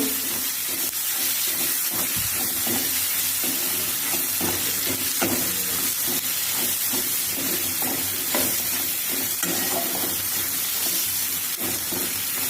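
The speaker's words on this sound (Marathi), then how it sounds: "मसाले घालून चांगलं परतून घेऊया" Spices including homemade black masala are sautéed in oil for a sprouted moth bean usal, giving a loud continuous sizzle and hiss, with scraping stirs of a spoon recurring close up.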